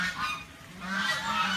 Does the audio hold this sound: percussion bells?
no